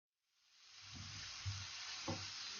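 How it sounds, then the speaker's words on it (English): Mushrooms seasoned with black salt and black pepper sautéing in a pan, with a sizzle that swells up from silence into a steady hiss, broken by two soft stirring scrapes. "We mix them and saute them nicely till there is a nice golden brown color on the mushrooms."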